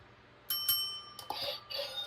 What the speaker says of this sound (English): We are going to ring the bell